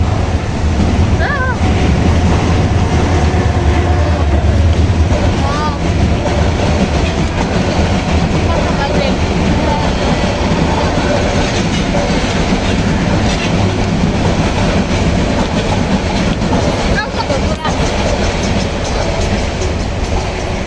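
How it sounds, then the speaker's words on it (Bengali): A train rolls past a level crossing in Mirpur while road traffic waits in a jam. Its heavy rumble and rattle of wagons stay loud and close throughout. "তার উপরে হচ্ছে ট্রেন চলে গেল, ট্রেনের জন্য 5 মিনিট দাঁড়াইতে হলো এখানে।"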